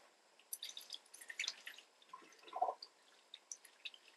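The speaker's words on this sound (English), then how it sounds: "it's a constant flow of water" Water runs through a gravel siphon drawn from a fish tank, a soft trickling and dripping flow with small splashes and gurgles, quiet and close.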